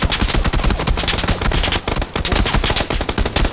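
An automatic Groza assault rifle fires in the battle royale game PUBG. Loud, close, rapid bursts crackle almost continuously, broken by a brief pause near the middle.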